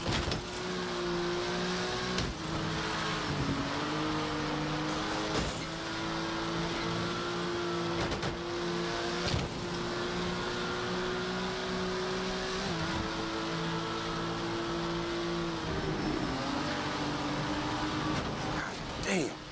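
Car engine in the game Fast & Furious Crossroads, driving on a cargo ship: a steady loud drone with pitch shifts as it revs and eases, heard continuously, with voices talking over it.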